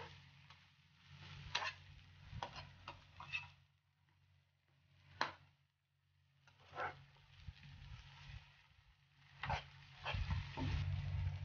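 Onions and tomatoes with curry leaves, coriander and ginger-garlic paste sauté in a pan, giving a quiet, soft sizzle broken by intermittent spatula scrapes and stirs.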